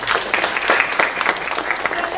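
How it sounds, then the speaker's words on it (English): Audience at a project management conference claps on request, a dense burst of applause from many hands, loud and close, holding steady for a couple of seconds. "Give me a clap"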